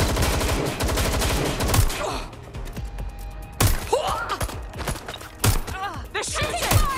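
Gunfire in a film battle scene: dense bursts of automatic fire and sharp shots, close and loud, with crashing impacts and shouted voices between the volleys.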